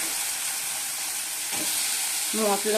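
Potatoes go into a pan of spice masala frying in oil. A dense, steady sizzle hisses throughout, and near the end a voice speaks briefly over it.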